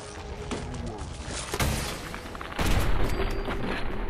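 Gunfire during a Mirelurk Queen boss fight in Fallout 4, a few loud booming shots at irregular intervals, the last and heaviest near the end, over game background noise.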